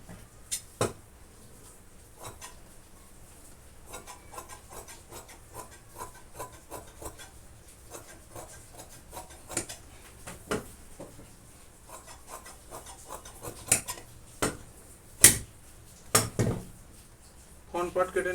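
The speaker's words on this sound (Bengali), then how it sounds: "ফ্রন্ট পার্টটা কাটছি।" Scissors cut fabric for the front of a princess-cut blouse on a table, giving faint, scattered snips and rubbing with a few sharper clicks, close and quiet over a low room hum.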